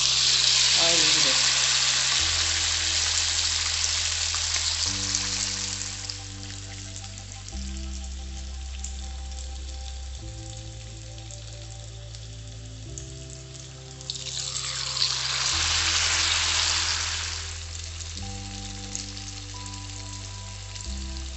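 Rice ladoos for a Tulu recipe fry in hot oil with a steady, close sizzle that swells twice in bursts of crackling bubbling, while a low tonal hum runs underneath throughout.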